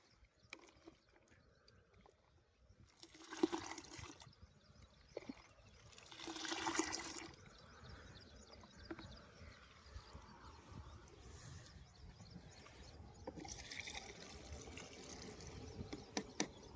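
Measures of Roundup herbicide poured into water in a farm sprayer pump tank: several separate splashing pours, each a few seconds long, between quieter dribbling and trickling liquid sounds, fairly close and faint overall.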